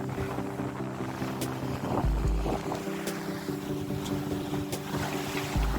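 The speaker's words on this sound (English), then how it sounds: "Much nicer to go with the sails." A sailboat running under sail through choppy waves, with steady wind rushing past and water washing against the hull, a continuous mid-level wash of sound with no voices.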